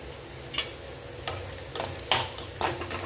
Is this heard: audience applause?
no